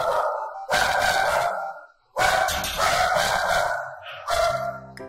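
Several dogs at a dog hotel bark in bursts, loud and close, with short pauses between volleys and a brief quiet gap midway.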